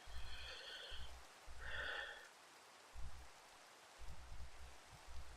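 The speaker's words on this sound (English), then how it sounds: "now it's raining" Steady rain falls in the Minecraft modpack Sky Factory 3, a continuous soft hiss running throughout, with periodic low thumps and a couple of brief higher game tones layered over it.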